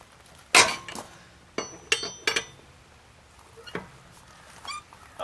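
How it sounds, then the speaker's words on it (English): Lug nuts on a car wheel are worked loose with a metal wrench, giving a handful of sharp metallic clinks and knocks spaced irregularly in a quiet garage, with no talking. "we got all 5 lug nuts loose. Now we can get them all the way off."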